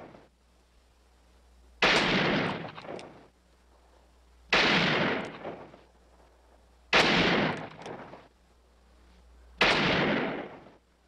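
A revolver fires slugs into a tree trunk in a Western film scene: four loud, evenly spaced shots, each ringing out with a long echoing decay before a pause and the next.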